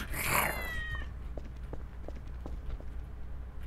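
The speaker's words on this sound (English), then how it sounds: "Did you throw the cat in the fucking thing again?" A single drawn-out cat meow from Garry's Mod TTT rings out at the start, followed by faint, sparse footstep-like clops over quiet game ambience.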